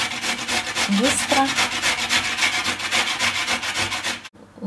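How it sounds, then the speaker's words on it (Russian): Coconut is rubbed against a fine grater in quick, rhythmic rasping strokes, close and continuous, and a voice briefly says a word near the end. "Теперь эти кокосы натираем на терке, на мелкой терке."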